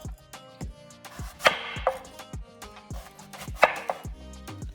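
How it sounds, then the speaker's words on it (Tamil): A knife chopping apple and beetroot on a board, roughly cut for a Deepavali recipe: a steady series of close, crisp blade strikes with occasional louder, scraping cuts, with no talking. "ஸோ ரஃப்லி சாப் பண்ணிங்கன்னா போதும்."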